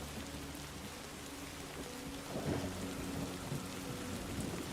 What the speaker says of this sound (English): what happens to Lou when it's raining?